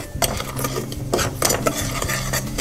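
Cornstarch custard powder, vanilla sugar and sugar are stirred together in a bowl, a close, continuous run of scraping and clinking strokes from a utensil against the dish, with no talking.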